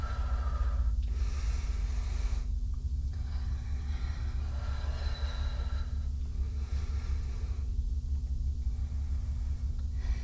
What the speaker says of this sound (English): snoring that's so common in the background of our videos.